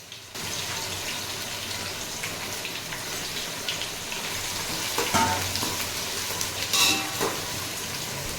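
Onions and green chillies fry in spiced oil for a chicken dum biryani, giving a continuous close sizzle, with a few louder stirring scrapes and clanks toward the end.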